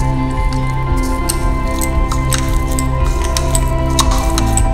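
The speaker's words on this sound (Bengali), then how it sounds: "এখানে কাঁচা কলাগুলোকে ভালো করে সুন্দরভাবে মেখে নেওয়া হচ্ছে।" Raw green bananas mashed and mixed by hand with flour, turmeric, red chilli powder, salt and a little sugar, giving soft wet squishing and crackling sounds over a loud steady background hum of music.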